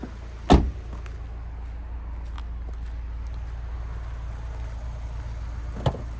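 A single sharp car door clunk from a 2014 Jeep Renegade 1.4 MultiAir near the start, a faint click near the end, with a low steady hum underneath.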